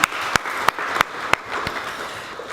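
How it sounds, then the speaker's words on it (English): An audience at a college leadership course closing ceremony claps in a brief round of applause, with sharp individual claps standing out over a softer wash. "let's give him a round of applause"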